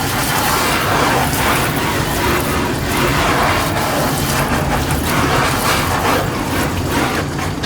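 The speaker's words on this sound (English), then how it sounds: "Then just take the hose in the sink and you can wash out your screen." A hose sprays water in a sink to wash out a screen-printing screen, making a steady, loud, unbroken hiss that lasts throughout.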